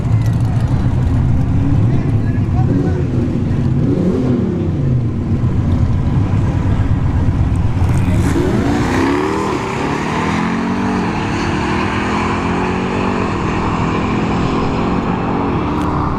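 A Tesla Model S Plaid and an SRT Durango drag race at ShowTime Dragstrip: a loud, close roar of engine and tyre noise swells and shifts as the cars launch and pull away, with a voice talking throughout.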